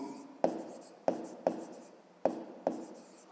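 Pen or pencil writing on paper during a 5th-grade geometry exercise, heard as five sharp strokes at irregular intervals, each followed by a fading scratch, close and quiet.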